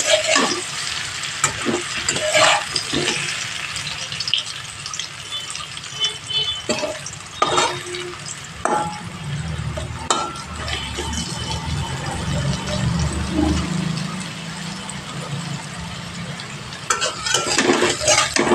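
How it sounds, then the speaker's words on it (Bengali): Potatoes sizzle steadily frying in a pan, broken by scraping stirs and clinks of a utensil against metal, close and continuous. "ঠিক এইভাবে আলুগুলো ভেজে নিতে হবে"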